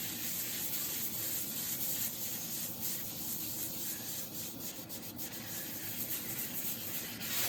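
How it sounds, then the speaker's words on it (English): Cloth rubbing sanding sealer onto a turned wooden burl makes a steady, close, continuous hiss and scrub with slight rhythmic variation, no voices. "I'm rubbing it a little longer before I'm turning it, but it's that sanding sealer I'm trying to smooth out a little better."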